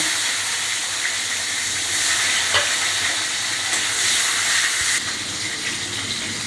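Tomatoes added to hot oil with black cumin and tempered spices while cooking a bhangor bata fish curry, giving a steady close sizzle and frying hiss with occasional stirring scrapes.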